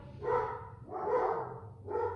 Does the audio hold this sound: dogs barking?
yes